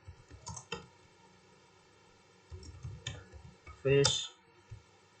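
Keystrokes on a computer keyboard as a network switch command is typed into a terminal: scattered light clicks in short bursts, close by, with a louder run of rapid taps near the end.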